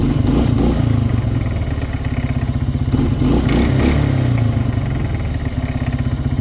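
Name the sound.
ATV engine noise from variator rollers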